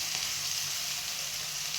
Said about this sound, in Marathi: छान असा गुलाबी तळसून घ्यायचा कांदा